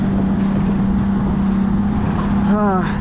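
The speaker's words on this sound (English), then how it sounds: "So the 430 just pulled up, and that's what we're going to be driving" A Ferrari F430 rolls up close with a steady low engine drone throughout, while a voice talks briefly near the end.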